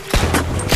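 Gunfire blasts at zombies in a mobile shooting game, three or four sharp shots in quick succession over a low, steady game soundtrack.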